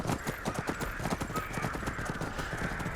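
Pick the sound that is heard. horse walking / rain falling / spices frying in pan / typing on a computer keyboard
horse walking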